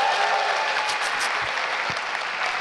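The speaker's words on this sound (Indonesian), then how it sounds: "Boleh tepuk tangan buat Unis." Stand-up comedy audience applauds steadily, a dense wash of clapping from a full room that holds at an even level throughout, with no voice over it.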